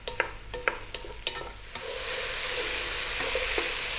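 Mushrooms in a pot over medium-high heat are stirred with a few sharp clacks of a utensil against the pot, then a broad, steady sizzle swells up and holds as they fry.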